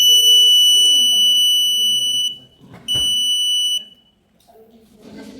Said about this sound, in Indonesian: kalau di bawah 20 cm dia bakal bunyi Pak, buzzernya gitu